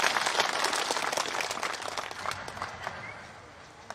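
A crowd claps and applauds at an election rally in a village near Shergarh, Jodhpur, with dense clapping that gradually fades toward the end.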